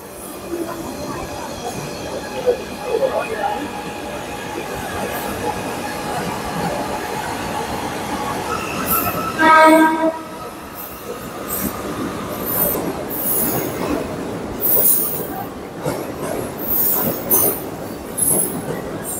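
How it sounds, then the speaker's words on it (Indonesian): A commuter train departs a station in Jakarta, rolling out with a steady rumble and rail noise, wheels squealing in sharp high bursts partway through; an announcement-like voice is faintly mixed in. "kereta Cina ini sudah bergerak meninggalkan stasiun ya"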